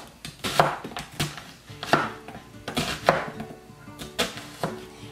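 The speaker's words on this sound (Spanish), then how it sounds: "vamos a cortar nomás la mitad de la cebolla" A knife slices half an onion into strips on a cutting board, giving about eight crisp, close chops at a loose, steady rhythm with no talking.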